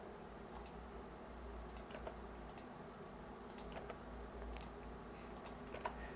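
Quiet computer keyboard typing and mouse clicks while drafting in AutoCAD, with short bursts of keystrokes spaced irregularly over a low steady hum, no talking.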